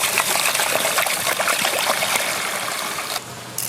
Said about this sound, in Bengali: তো চালটাকে এবার আমরা ভালো করে ধুয়ে নেব। তো চলুন আমরা চালটাকে ধুয়ে নিই।